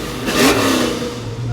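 A 1988 Ford Mustang 5.0 convertible revs hard as it accelerates, a loud, close, rising V8 roar that holds strong for about a second and a half, with no voices.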